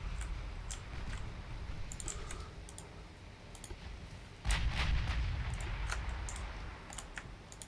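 Naval main guns firing in the warship battle game Ultimate Admiral Dreadnoughts, a booming low-frequency blast arriving about midway and rolling on, with sharp clicks and ticks scattered throughout.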